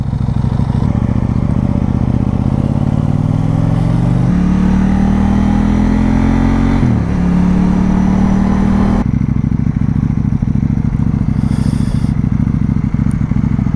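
A motorcycle with a large stock catalytic converter revs and accelerates on the road, the engine note rising through several pulls before dropping, loud and close throughout with some clattering underneath.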